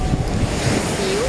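Surf washes steadily onto Sangchai Beach in Phuket, where the waves are calmer than elsewhere on the island. The wash is continuous and broad, mixed with wind buffeting the microphone, and a brief whistling tone rises near the end.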